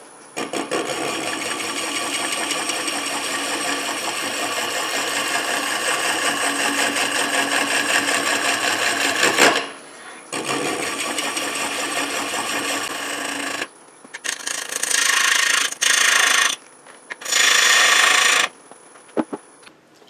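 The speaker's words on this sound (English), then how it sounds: "I'm just going to be using a scraping cut." Scraping cut on a wooden chip dip and nut bowl spinning on a lathe, a steady broadband rasping drone for about nine seconds, then shorter bursts of cutting broken by pauses.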